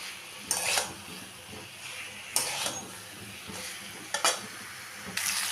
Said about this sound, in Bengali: চিকেন আর আলুটাকে ভালো করে কষিয়ে নিলাম